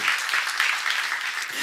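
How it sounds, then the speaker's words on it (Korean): A church seminar audience applauds with dense, steady clapping that stays fairly loud for the whole stretch and fills the hall evenly. "박수하세요."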